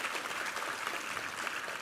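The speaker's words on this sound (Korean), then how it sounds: "우리 하나님께 감사와 영광의 박수 올려드리겠습니다" A church congregation at Sunday worship applauds, a soft, continuous rustle of many hands clapping at a distance, even and fairly quiet for a brief stretch.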